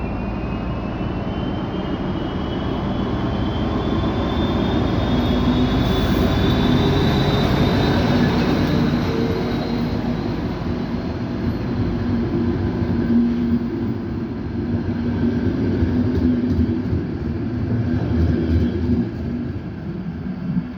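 Diesel locomotive 754 085 pulling away from a station with a passenger train, a steady loud engine roar building and holding, with a faint high wheel squeal rising over the first several seconds, no talk.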